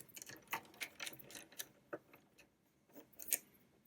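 Small plastic and metal clicks and ticks come from a microphone shoe mount being threaded onto a 1/4-20 screw thread on a phone holder: several quiet, irregular taps and scrapes with no talking, close and faint.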